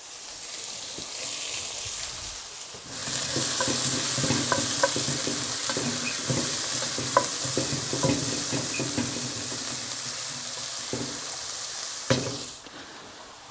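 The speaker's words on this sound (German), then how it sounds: "um das Gemüse anzubraten. Sprich die Karotten, Sellerie, Schalotten, Knoblauch." Carrots, celery, shallots and garlic frying in a Dutch oven: after a quiet start, a loud sizzle sets in, with repeated sharp stirring clicks and scrapes before it cuts off near the end.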